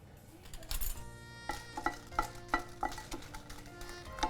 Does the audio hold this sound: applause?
no